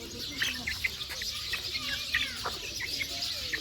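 Chickens being fed in a village courtyard, with a run of short clucks and chirpy calls scattered over about four seconds, close by against a steady background hiss.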